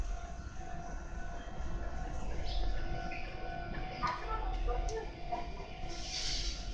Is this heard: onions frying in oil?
no